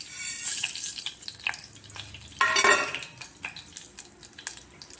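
Mustard seeds, chana dal, urad dal and cumin tempering in hot oil crackle and sizzle in irregular bursts, with a loud spatter midway and occasional light clatter of a utensil, no voices.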